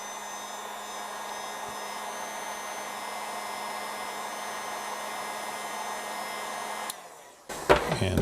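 A heat gun blows steadily on a 3D printed part being softened for thermoforming, a loud constant airflow roar that cuts out near the end, followed by brief handling noises.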